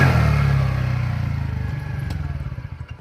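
A TVS NTORQ scooter on its stock exhaust revs and then settles, a loud close engine note that fades into a pulsing, sputtering idle.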